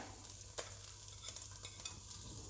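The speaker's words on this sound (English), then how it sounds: "now I'm going to add sliced ginger" Sliced ginger sizzling in a hot pan while being stir-fried for black pepper beef, a constant close frying hiss with light stirring scrapes and one sharp tap, no voices.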